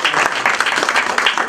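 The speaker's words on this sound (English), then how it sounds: "Dr. Asaf Saeed, please with your applause" Loud, dense applause from an audience at an event in Chicago honoring a Telangana member of parliament, with sustained, close clapping throughout.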